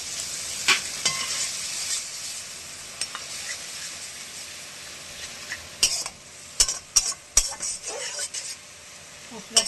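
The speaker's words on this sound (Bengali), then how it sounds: "মশলাটাকে আমি এবার কষাতে থাকবো" Spice masala is stirred into fried onions in hot oil for fish curry, with a steady high sizzle and sharp spatula clinks against the pot that come more often toward the end.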